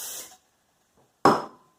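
Two short hissing bursts of cooking spray into a pan, a brief one first and then a stronger, closer spray after a pause.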